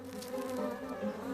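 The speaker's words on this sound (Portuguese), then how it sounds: "As abelhas vêm e vão" A steady, droning buzz of bees humming together, continuous and fairly close, with no voices.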